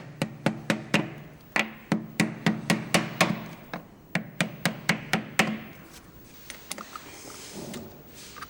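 A printing forme being levelled with a wooden planer and hammer, a rapid series of sharp, close knocks in uneven bursts of around twenty blows, then fading into a quieter room tone.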